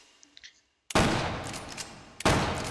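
A Winchester 1873 lever-action rifle in the VR game H3VR fires two loud, close shots about a second apart, each with a long booming tail, after a brief quiet stretch of small handling clicks.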